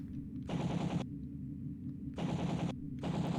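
Rapid machine gun fire from a retro shooter game comes in three loud, close bursts, separated by short gaps over a steady low in-game rumble.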